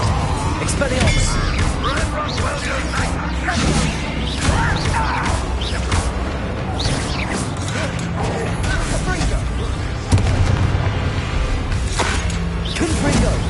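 Explosive Bombarda and Confringo spells in Hogwarts Legacy go off as a busy run of crashes, whooshes and sharp impacts amid loud, cluttered combat noise.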